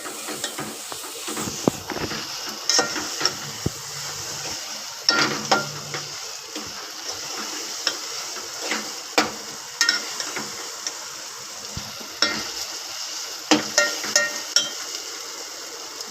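Masala fries in a pan with a steady close sizzle while a utensil scrapes and clinks against the metal in irregular stirring strokes. No voices are heard.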